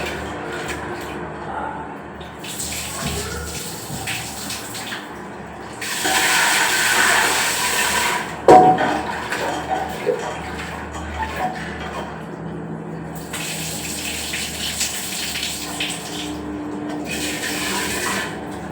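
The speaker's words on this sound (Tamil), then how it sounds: "இது அப்படியே வாஷ் பண்ணிடணும்" Tap water runs onto food being washed in a sink, swelling into louder gushing bursts and then easing back, with a brief clatter partway through.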